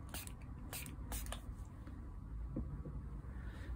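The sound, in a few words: spray bottle spraying water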